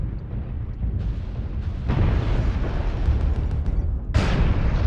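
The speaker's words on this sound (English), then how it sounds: "I hit him in the side with a lot of autocannon fire" Autocannon fire from an assault mech in MechWarrior Online rumbles as a dense, continuous barrage of low booms and bursts, growing heavier partway through with a sharp fresh blast near the end, no voices present.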